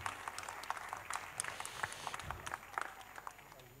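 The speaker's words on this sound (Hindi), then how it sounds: "थोड़ा सा अच्छे से थोड़ी ताली वाली दो" Scattered audience applause at a live tribute concert, with sparse, uneven claps rising and falling at moderate distance and no talk over it.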